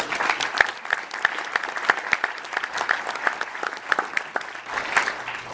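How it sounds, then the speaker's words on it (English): A small audience gives a round of applause at a Jefferson City update event, with scattered distinct claps forming a light, steady patter throughout. "Would you guys join me in a round of applause?"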